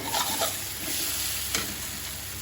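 Fish frying in a pan with oil, a steady close sizzle with stirring scrapes and a brief clatter partway through.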